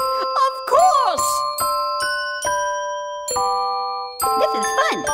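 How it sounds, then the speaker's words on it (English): Small bells ring out in bright, sustained ding-dong tones, several distinct strikes spaced through the passage with lingering ringing overtones, mixed with a cartoon Christmas song setting and brief voices. "Can I ring the little bells too?"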